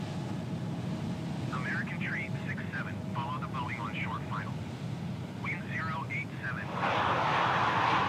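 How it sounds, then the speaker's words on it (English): Airliner on short final in Microsoft Flight Simulator 2020 at Miami International: a steady low engine drone throughout, rising to a louder broad roar near the end, with a voice talking over it. "we have an airplane on short final"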